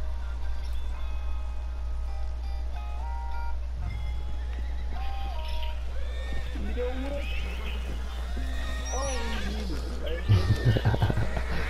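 Horse in Red Dead Redemption 2 giving long, wavering whinnies, followed by a sharp burst of hoof clatter near the end, over a constant low hum, with someone talking throughout.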